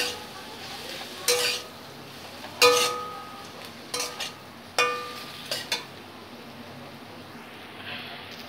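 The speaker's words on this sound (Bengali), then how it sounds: "মশলাগুলোকে ভালো করে করলার সঙ্গে মিশিয়ে দিয়েছি" Fried bitter gourd being tossed with spices in a metal pan, several separate scraping and clinking strokes of a spatula spaced a second or so apart over a faint hiss, close and fairly quiet.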